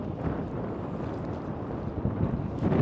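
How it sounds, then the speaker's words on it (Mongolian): Strong wind blows steadily across the microphone by the water near Sydney Tower, a continuous loud rush with no voices, swelling slightly toward the end. "Айгүй хүчтэй салхитай байгаа даа."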